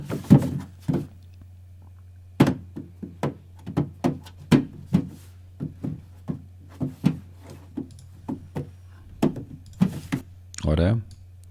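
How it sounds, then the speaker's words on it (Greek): A car door from a Fairlight foley library: a string of sharp thunks and clicks at an irregular pace, with a longer rattling shut near the end, close and dry. "Car door."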